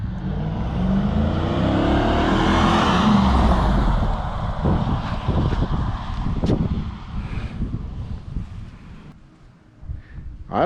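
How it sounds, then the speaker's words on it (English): Car fitted with aftermarket turbo whistles, driving hard on a closed course: a loud engine roar climbing through the revs with wind rush, then a series of rapid pops and bursts as it backs off, fading near the end. "Turbo whistles installed."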